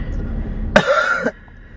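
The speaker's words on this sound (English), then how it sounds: "Cough three times" One sharp, close cough bursts out over a low background rumble, then quiet.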